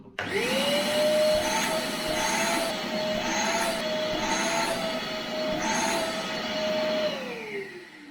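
An Einhell TC-VC 1930s wet-and-dry workshop vacuum cleaner switches on and runs loud and close. Its steady whine and airflow roar hold for about seven seconds, then wind down as the motor is switched off. No voices are heard.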